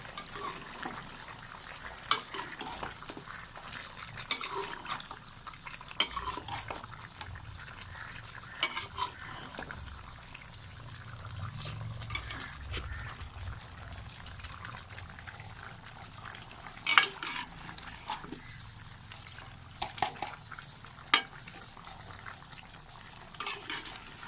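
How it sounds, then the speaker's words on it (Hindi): Meat with ginger and garlic paste sizzles in a metal pot while a spoon scrapes and stirs through it, with irregular clinks against the metal over a steady frying hiss. "गोश्त हमारा आधा फ्राई हो चुका है। अब हम इसमें लहसुन और अदरक का पेस्ट डाल देंगे। अच्छे तरीके से इसे हिला लेंगे।"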